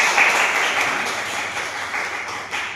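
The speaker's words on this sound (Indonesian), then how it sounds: "Tepuk tangan buat Wardi." A crowd claps in a dense, even burst of applause that slowly fades a little before a brief swell near the end.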